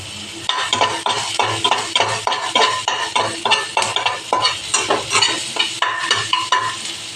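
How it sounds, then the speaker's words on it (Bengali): Onions frying with salt in a pan, sizzling steadily while a utensil stirs them in repeated rhythmic scrapes and clinks, close and fairly loud, with no talk. "পেঁয়াজটা ভাজা হতে একটু সময় লাগে, তাও আমি একটু নুন দিয়ে দিলাম যাতে একটু তাড়াতাড়ি ভাজাটা হয়।"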